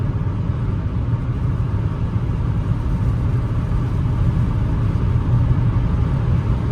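Toyota Camry 30 with a 2.4 engine and automatic transmission cruising on the highway at about 130 km/h and 2800 rpm, a steady low engine drone and road rumble filling the cabin, even and continuous with no talk.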